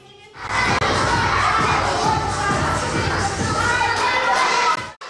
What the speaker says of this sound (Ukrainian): Оплесками батьки підтримували своїх дітлахів